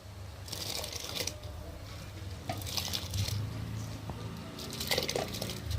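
Rice poured into a pot of rolling, boiling water, with a steady bubbling and hissing wash and several bursts of splashing and rustling, close and moderately loud, no talking.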